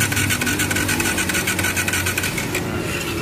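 A Bajaj Pulsar 180 motorcycle with a suspected leaking piston ring cranks and runs, a steady, loud, rough mechanical engine drone held close for several seconds, with no talking.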